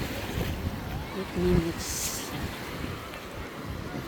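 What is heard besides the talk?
strong rushing water, waves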